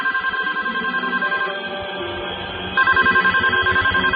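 In a hotel room in Bali, a nearby telephone trills loudly in repeated electronic rings, pausing briefly before the next burst.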